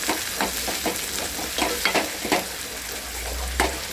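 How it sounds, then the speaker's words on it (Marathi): Steady sizzling of tomatoes frying in a pan, with repeated scraping stirs at irregular intervals and no voices. "टॅमॅटो पहिलं भाजून घ्यायचं"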